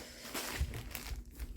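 Plastic bag holding fabric trims crinkles and rustles close up in a small craft room, a dense, continuous crackle with a few sharper crunches over under two seconds.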